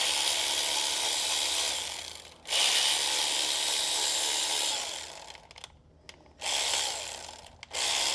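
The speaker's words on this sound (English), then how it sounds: "You just pull out the 4 bolts," Quick ratcheting from a hand ratchet backing out motor bolts on a regulator and gearbox assembly, several fast bursts of clicking separated by short pauses, close and clear with no talking.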